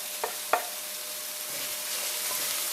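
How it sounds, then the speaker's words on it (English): Garlic hitting a hot pan for Creole pork chops: two sharp clicks as it drops in, then a steady soft sizzle that holds on, fairly quiet and close. "now I'm going to add in my garlic"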